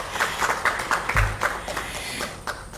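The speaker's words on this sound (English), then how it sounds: "I request a round of applause from the audience" Scattered applause from an audience at an ethics conference, soft uneven clapping at moderate distance that stays fairly light throughout.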